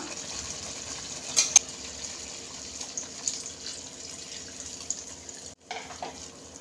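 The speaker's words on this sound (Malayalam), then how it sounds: "ഈ സമയത്ത് നമുക്ക് രണ്ടാം പാല് ചേർത്ത് കൊടുക്കാം" Second coconut milk pours into simmering jaggery ada pradhaman in a pot, a steady liquid splashing with a couple of brief louder sloshes, continuing quietly throughout.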